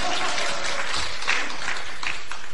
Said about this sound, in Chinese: 可以鼓掌了啊！